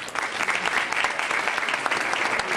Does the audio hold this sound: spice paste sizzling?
no